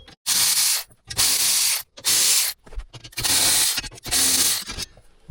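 Rapid loud bursts from a power ratchet or impact tool running 10 mm bolts out of a car's steering column plate, five or six whirring runs separated by short gaps, close up with no talking.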